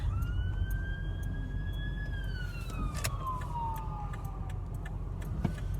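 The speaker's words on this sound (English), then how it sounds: "Stand by, we got an ambulance coming." An ambulance siren wails over a low background rumble, its tone sweeping up and then gliding steadily downward in pitch as the vehicle passes by at moderate distance.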